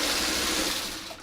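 A sewing machine stitching a quilt seam for a pieced border, running with a steady mechanical whir and hum at close range that eases off slightly at the very end.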